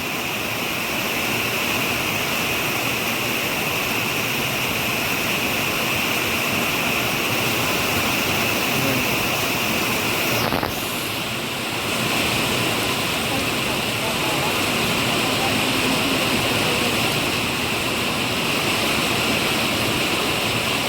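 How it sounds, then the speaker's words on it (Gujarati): Heavy monsoon rain pours down over farm fields in a steady, dense roar that fills the whole scene without pause, briefly interrupted by a faint knock. "અનરાધાર વરસાદ પડવા માંડ્યો છે"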